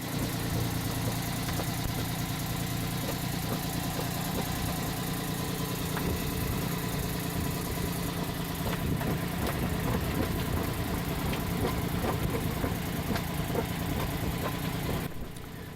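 A sailboat engine runs steadily at night during a sudden storm off Menorca, a loud, constant close drone that masks the wind, with a few knocks and rattles in the middle stretch.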